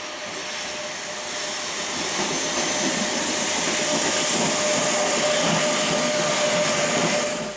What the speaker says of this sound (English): Following the loco out of the yard is SBB's 484012.